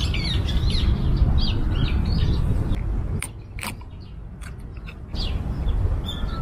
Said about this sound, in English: There's a noisy bird of some sort.